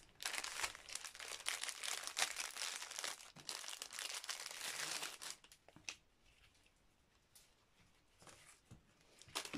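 Plastic packaging around a khaki belt crinkles and crackles as it is unwrapped close by, dense rustling at first, then thinning into scattered softer crinkles and taps.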